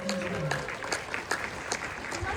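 Audience at a VidCon creator panel applauds in a steady patter of clapping, with a voice talking over it near the start.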